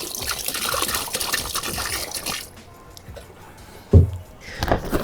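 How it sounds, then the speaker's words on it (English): Warm water pours and trickles into a Scrubba wash bag, a close splashing flow that stops midway, followed by a brief thump and a little more sloshing. "Oh, I might put a tiny bit more water in."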